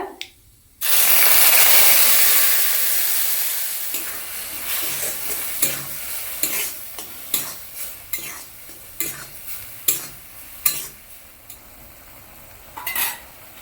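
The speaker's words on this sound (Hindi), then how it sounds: "एबे इथरे सिझा मसूर डाली पकेइबा।" Boiled masoor dal hits a hot pan with a loud burst of sizzling, followed by a spoon stirring and scraping in a steady run of close, rhythmic clinks and scrapes.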